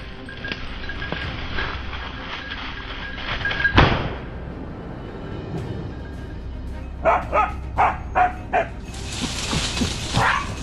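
Hunting dogs bark at a cornered wild boar in rugged, steep terrain, first as scattered distant yips under rustling, then as a quick run of five or six loud, close barks near the end.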